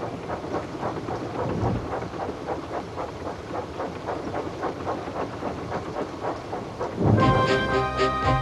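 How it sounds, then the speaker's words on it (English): Steady rain streams down in a dense, continuous wash during a stormy scene with a small steam engine on a coastal line, mixed with rhythmic rail clatter and a musical swell near the end. "The rain streamed down Percy's boiler."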